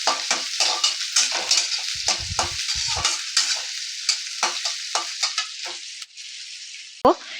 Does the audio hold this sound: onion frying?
yes